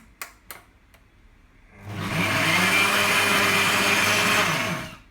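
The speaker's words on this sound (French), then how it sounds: "on tourne le mixeur. Attention, ça fait du bruit, c'est très puissant" After a few soft clicks, a Klarstein Soup-Chef blender whirs loudly for about three seconds while mixing soup, a powerful steady motor roar, then winds down.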